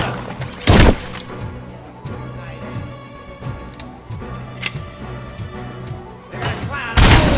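Gunfire in the RoboCop: Rogue City video game, with two heavy, loud blasts near the start and end and scattered lighter impacts and clicks between them over a busy combat background.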